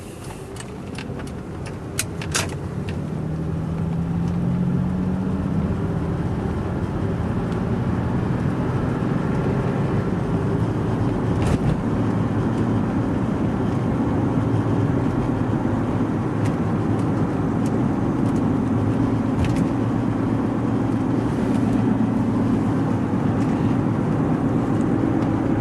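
Steady road and tire roar from a 1996 Acura TL 3.2 driving at night on cheap tires, a continuous low rumble with engine hum that holds loud and even throughout, with a few brief clicks early on.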